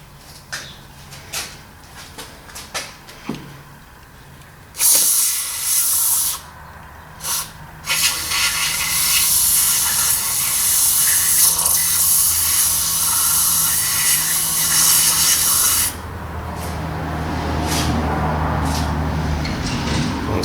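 Carburetor cleaner sprayed into a gummed-up Weber carburetor on a Renault R8 Gordini: faint tapping and handling noises at first, then a loud, close, sustained spray hiss lasting about eleven seconds before it fades into a softer fizzing.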